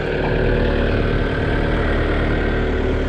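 Kioti RX 7030 tractor engine running steadily in second gear, a close, constant diesel drone and rumble with no voices.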